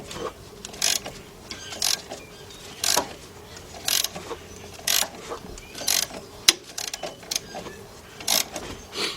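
A ratchet wrench tightens a puller to draw a pulley off the 2.4 engine of a 2002 Dodge Stratus during timing belt work, clicking in short close bursts about once a second.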